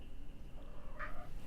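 A pet cat gives a short meow indoors during a night-time sewing session, a single brief call that is fairly faint against a quiet room background.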